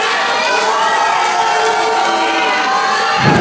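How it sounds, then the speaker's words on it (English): A dense, loud crowd at a live wrestling show cheers and shouts continuously as a wrestler climbs to the top rope, a steady roar with no pauses. "The crowd calling for it."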